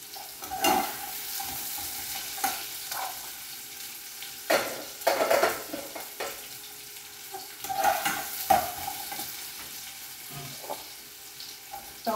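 Carrot frying in a pan with salt and garlic, stirred by hand: a steady close sizzle broken by repeated scraping stir strokes and occasional utensil clicks, no talking.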